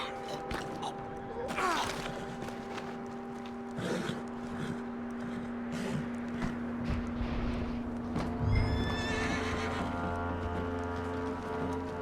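Horse whinnying and snorting in the Red Dead Redemption 2 video game, with a rainy backdrop, low hoof thuds and a sustained musical score underneath, voices briefly heard.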